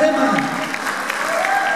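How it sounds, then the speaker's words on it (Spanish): An audience at a rondalla music competition applauds in a dense, continuous patter, with a voice speaking over the clapping. "Fuerte el aplauso."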